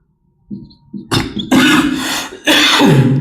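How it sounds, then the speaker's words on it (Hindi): A few short, harsh coughs close to the microphone, the first two small and the later ones louder and rougher. "बहुत खांसी आ रही है"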